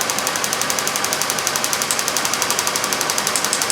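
The engine of a 2003 Chevrolet Impala with a cylinder misfire runs while a failing ignition coil arcs, making a loud steady running noise with fast, evenly spaced ticking snaps throughout.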